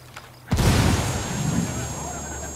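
A frag grenade goes off in Ghost Recon Wildlands, a sudden loud close blast followed by a long roaring rumble and debris wash that slowly fades.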